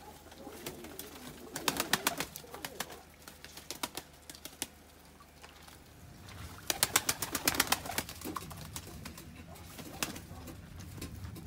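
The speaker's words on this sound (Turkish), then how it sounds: "Kuşlarımız bunlar." Tumbler pigeons cooing in a loft, soft low coos under bursts of sharp clattering wing and scratching sounds, close and fairly quiet, with two busier stretches.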